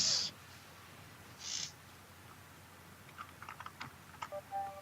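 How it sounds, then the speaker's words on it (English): Clicks of typing on a computer keyboard come in short uneven bursts in the second half, faint and close, with brief louder hiss-like sounds near the start. "Stop typing, Just John."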